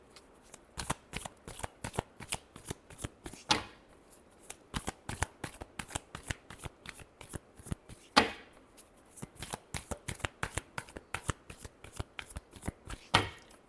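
Tarot cards being shuffled by hand in repeated quick riffling bursts, close and fairly quiet, with a few sharper snaps between runs and no talking.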